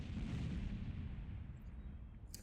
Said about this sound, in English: It's little grenades.